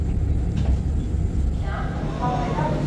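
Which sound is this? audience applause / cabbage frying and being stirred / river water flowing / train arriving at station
train arriving at station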